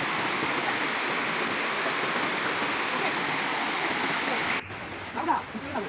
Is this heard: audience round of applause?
no